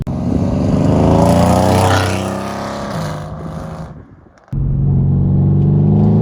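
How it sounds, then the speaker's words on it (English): A 530 WHP Mercedes-AMG C63S coupe roars loud and close under throttle, then drops into a falling overrun burble with faint crackles before the engine surges back in hard; no talk. "I can feel the overrun and the pops and bangs."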